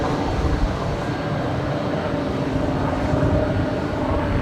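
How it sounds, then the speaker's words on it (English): Airbus A320neo passenger jet at LAX airport, a constant loud engine roar and rumble filling the whole stretch with no voices over it. "flight 4311 heading to San Salvador, this A320neo"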